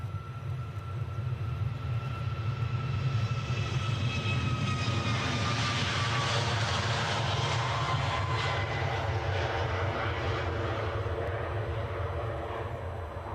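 A Loganair ATR turboprop airliner at Edinburgh airport gives a steady, loud engine roar with a faint descending whine, sustained for over ten seconds without speech.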